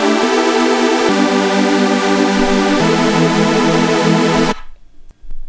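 A bright, buzzy super saw synth built in Serum plays a future bass chord progression of three sustained chords, loud and wide, cutting off abruptly near the end.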